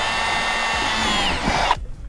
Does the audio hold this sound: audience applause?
no